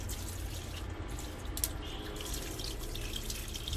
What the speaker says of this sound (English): So again I'll just give it a wash